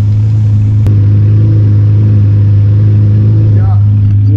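A straight-piped Lamborghini Murcielago LP640, converted to 700 hp rear-wheel drive, heard from inside during a ride: a loud, deep, steady engine drone holding throughout with little change.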